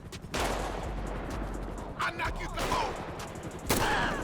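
Gunshots in GTA V with the LSPDFR police mod: a few sharp shots ring out over steady background game noise, spaced irregularly across the moment, with a louder crack near the end.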